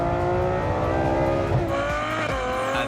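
Ferrari 812 Superfast with a front-mounted 6.5-litre V12 and rear-wheel drive accelerating hard, a loud continuous engine roar with rising pitch through the gears.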